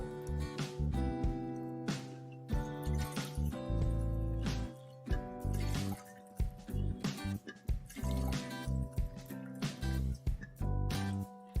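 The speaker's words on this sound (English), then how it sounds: "I'm going to start with boiling some water." Water pours and splashes into a pot in uneven bursts, about 3.5 cups for boiling rice, with gurgling and dripping sounds close by.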